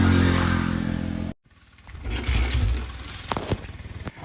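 A Royal Enfield Bullet motorcycle rides on a highway on a hot afternoon. Loud wind roar breaks off abruptly, then the engine returns with a thumping drone, some rattling clatter and a few sharp knocks.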